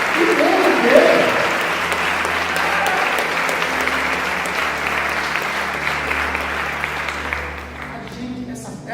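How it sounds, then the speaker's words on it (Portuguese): A church congregation applauds together in a sustained, dense wash of clapping that holds steady for most of the span and then thins out near the end. "Pode aplaudir e glorificar Jesus."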